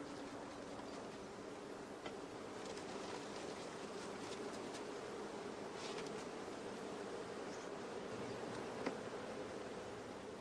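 Honey bees are brushed off several frames taken from strong colonies, giving a steady, even hum of buzzing that runs throughout, moderately faint, with soft scattered ticks and no talk.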